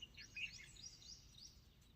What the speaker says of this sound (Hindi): आप सुनो चिड़िया को, कितनी सुंदर आवाजें कर रही।